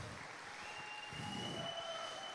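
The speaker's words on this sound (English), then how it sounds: "How about another round of applause for the USC Blue Note combo?" An audience applauds a USC Blue Note jazz combo at a jazz invitational concert, a steady wash of clapping held at an even level through the whole stretch, with no talking over it.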